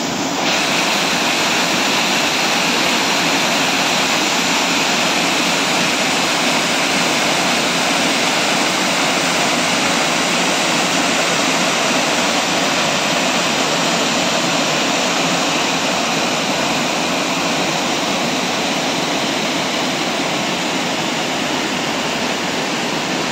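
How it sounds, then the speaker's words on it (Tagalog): Powerful waterfall in Iceland with a strong current, a loud, dense and unbroken roar of rushing water close by, with no voices. "sobrang lakas ng agos"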